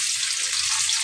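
Tofu frying in oil in a pan for adobo, a steady loud hissing sizzle with no break and no voices.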